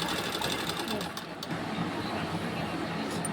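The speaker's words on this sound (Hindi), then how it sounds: "इसके ऊपर जैसे सिलाई चलाना है बिल्कुल सफाई से" Sewing machine stitching a belt onto a blouse, a fast continuous rattling whir up close that dips briefly in the middle before resuming.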